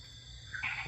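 A tiny tink frog calls in a Costa Rican forest near Volcano Tenorio, giving a brief, high, bright tink or two over a steady, faint insect-filled night backdrop.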